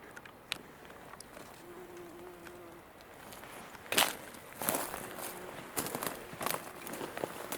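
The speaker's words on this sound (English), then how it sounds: "It's a bee." A bee buzzes faintly outdoors along a hillside trail, a thin sustained drone over low ambient noise, broken by footsteps and rustling handling sounds.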